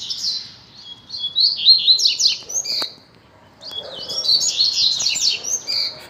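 A double-collared seedeater sings two loud, close bursts of rapid, buzzy chirping and warbling phrases, separated by a brief pause.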